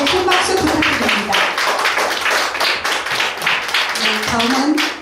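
An audience at a national poetry recital contest gives loud, continuous applause, with dense clapping that fills the room from start to finish while voices talk over it.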